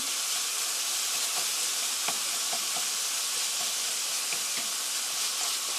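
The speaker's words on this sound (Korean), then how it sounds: "이렇게 해서 스터 프라이 5미닛 5분간 볶아주세요" Seasoned ground meat for mapo tofu stir-frying in a pan, a steady close sizzle and hiss running the whole time, with occasional soft scrapes and clicks of stirring.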